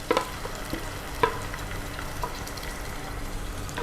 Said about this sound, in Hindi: पसंदों को भूनेंगे।